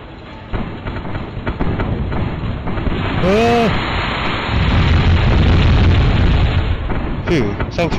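Rocket strike explosions in the video game Rail of War, heard as dense, loud rumbling booms layered over constant train and battle noise, with a brief burst near the middle and another toward the end.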